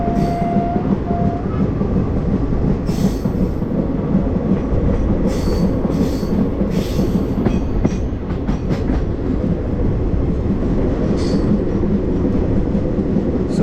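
Passenger train 17046 Anakapalle–Charlapalli slows as it approaches a loop line near Vangapalli, its wheels and coaches rumbling loudly and continuously, with clattering joints and brief metallic squeals along the way.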